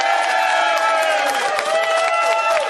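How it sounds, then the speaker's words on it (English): A television studio audience on a UK Big Brother spin-off show applauds and cheers, a dense, loud and continuous roar of clapping and voices that fills the whole stretch. "give him a round of applause"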